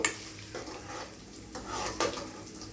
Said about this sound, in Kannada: ಒಂದೆರಡು ಹಸಿ ಮೆಣಸಿಕಾಯಿ ಕೂಡ ಕಟ್ ಮಾಡಿ ಇಟ್ಟೀನಿ ರೀ ಅದನ್ನು ಹಾಕ್ತೀನಿ ರೀ ಚೆನ್ನಾಗಿ ಫ್ರೈ ಆಗ್ಬೇಕು